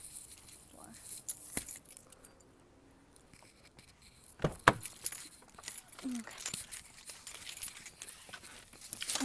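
Keys jangle and clink in short bursts at close range, with louder rattles midway through, alongside handling noises and occasional talking from someone about to drive a car with leather seats.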